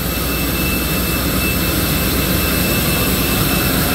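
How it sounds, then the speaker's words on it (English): Jet airliner engine roaring steadily at an airport, a loud continuous close-up drone with a high whine layered over a broad rumble, no voices. "I love the airplane sound."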